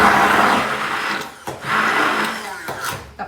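An immersion blender whirs loudly while emulsifying chocolate cream made with heavy cream and cocoa butter for French chocolate tartlets, a close, continuous motor whine that surges and briefly dips twice as the head moves through the mixture.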